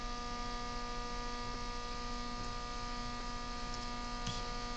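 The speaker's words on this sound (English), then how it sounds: "You can tell by the motor sound." A stepper motor running under test, giving a steady close electrical hum and whine with layered tones that holds constant throughout.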